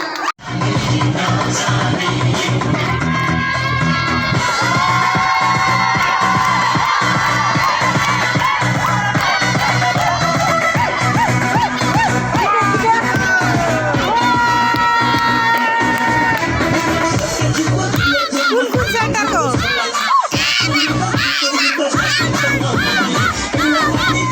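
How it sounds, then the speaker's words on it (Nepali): A large crowd cheering and shouting loudly, children's voices among them, in one continuous roar that holds for about twenty seconds before breaking into scattered shouts near the end. "जोरदार ताली"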